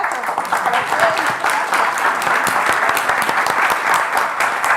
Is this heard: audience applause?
yes